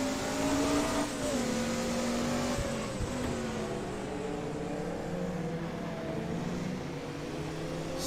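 A Sauber Mercedes race car in a sim racing game at Daytona, its raspy engine revving with pitch sliding up and down through gear changes, a continuous moderately loud drone.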